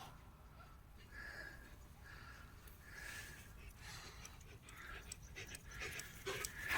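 Old German Shepherd dogs panting steadily outdoors at sunset, a soft continuous rhythmic breathing close by, with faint whimpers and a short burst of handling noise near the end.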